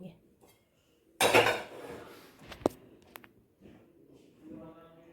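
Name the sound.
washing dishes, pots and utensils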